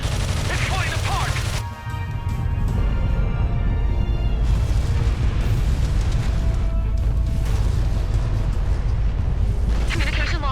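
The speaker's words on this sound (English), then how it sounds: "Explosion inside the Hivecraft." A big in-game explosion rips through the alien Hivecraft in Earth Defense Force: Iron Rain, a dense, loud, sustained roar of blasts and rumbling debris with a brief dip before the destruction swells again.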